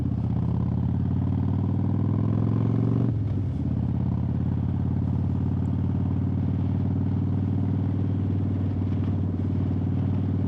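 Motorcycle exhaust drones steadily and loudly while riding, a constant low engine note with a brief shift or throttle change near the three-second mark, recorded by a mic in a bag on the bike.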